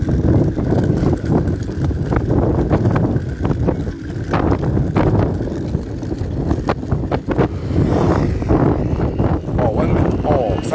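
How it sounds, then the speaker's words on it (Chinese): Strong, cold wind on a mountain buffets the microphone in loud, gusty rumbles that rise and fall, while people talk nearby. "山上的风又大又冷。"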